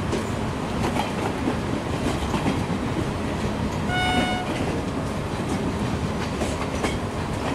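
A WAP-7 electric locomotive pulling the Paschim Express along the Himachal route in the Trainz Simulator game gives a steady, loud rumble with clickety-clack from the wheels on the rails. A short horn toot sounds midway, and no one speaks.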